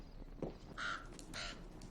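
A crow caws in a Game of Thrones episode, giving two or three harsh, fairly loud calls in a short burst against a quiet background.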